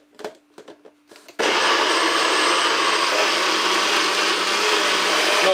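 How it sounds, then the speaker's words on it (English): A blender whirs on abruptly after a few short clicks and handling sounds, running loud and steady as it blends a weight loss juice, close and alone without talk. "Let's blend up this one"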